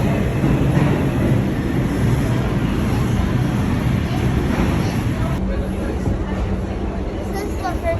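A New York City subway train riding along, a steady, loud rumble and rattle of the car with a constant roar, muffled voices faintly mixed in beneath.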